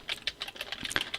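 Someone types quickly on a computer keyboard, producing a rapid, even run of crisp key clicks close to the microphone with no talking.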